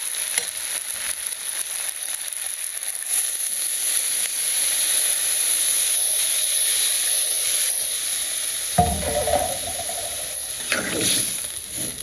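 A pan of village-style chicken curry made with chicken skin hisses with a loud, steady frying sizzle, then water poured in around the ninth second sets off a sudden, louder steaming burst.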